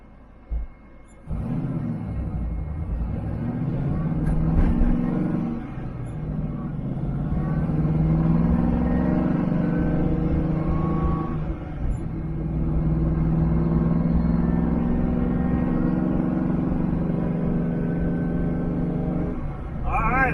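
A Whipple-supercharged 1967 Chevrolet Nova engine idles and cruises steadily with a low, even rumble that starts abruptly and continues throughout, slight shifts in pitch as it runs.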